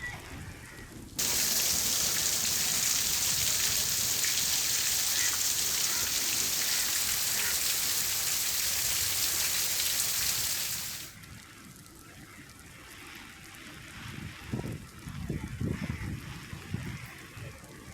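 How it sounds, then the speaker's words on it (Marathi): Heavy rain pours in Dadar, Mumbai, in a loud, steady roar for several seconds, then drops to a lighter patter with some scattered knocks. "दादर परिसरामध्ये मुसळधार पाऊस सुरू आहे"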